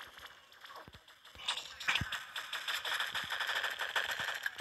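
Rifle shots in the Pixel Gun 3D shooter game, starting as a few sparse cracks and building into a dense, steady burst of rapid fire over the last few seconds.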